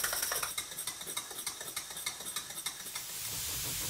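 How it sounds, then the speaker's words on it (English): Small model steam engine with a flywheel mounted on a base, running with rapid, even chuffs and hisses that give way to a steady hiss near the end. "fitted the flywheel to the engine and the engine to the base, and here it is running"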